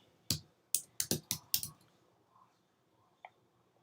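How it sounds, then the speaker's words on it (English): About six sharp, close keystrokes come on a computer keyboard in a quick irregular burst, followed by near silence and one lone final click. "I'm going to come in here and type my text."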